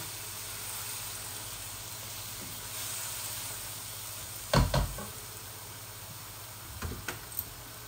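Chicken pieces, satkora and garlic fry together in a pan with a steady, soft sizzle, broken by a few sharp knocks and scrapes of stirring near the end.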